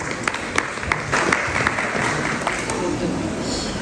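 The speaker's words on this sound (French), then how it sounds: "On peut applaudir Annie aussi pour cette petite conclusion." Audience applause at a round-table debate on tourism and the Olympic Games during an ecology festival, steady clapping from a seated crowd with scattered sharper claps throughout.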